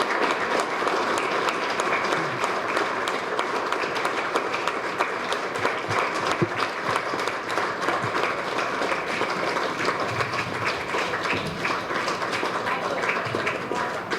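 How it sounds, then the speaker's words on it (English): Sustained audience applause welcoming new scouts at a Cub Scout pack crossover ceremony, a steady dense clatter of many hands clapping throughout, fairly close and even in loudness, with a faint murmur beneath. "please join me in a round of applause to welcome our new scouts"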